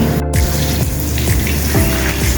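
Water runs steadily from a tap while colour is washed off, a continuous close splashing flow with faint gurgles and no talking.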